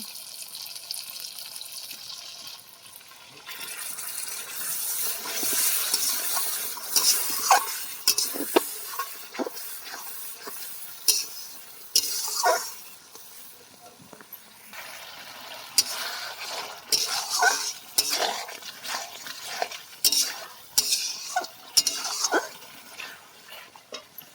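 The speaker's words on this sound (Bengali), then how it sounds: "দিয়ে মশলাটাকে কষিয়ে নেব।" Spice paste with sour yogurt and a splash of water being fried and stirred in a pan for a desi chicken and potato curry, steady sizzling with repeated scraping and clinking of the spoon, no voices.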